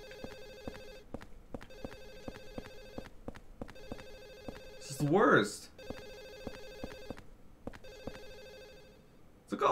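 A telephone rings in repeated bursts in the Silent Hill 4 video game, each ring a trilling electronic bell separated by short pauses, while someone talks briefly over it.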